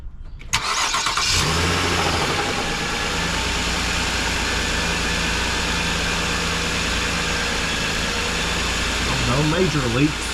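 A Nissan Quest engine cranks and catches just after the start, then settles into a steady, close idle that continues to the end, fresh after an oil change and oil pan replacement.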